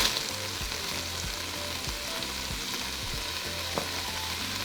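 Chopped onions saute in a hot pan with browned meat for carne con chile, a steady close sizzle broken by a few stirring scrapes, with no talk.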